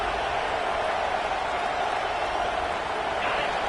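A steady, roaring football stadium crowd cheering on a 4th-down play, a dense, even wash of noise from many voices that holds constant throughout with no distinct individual calls.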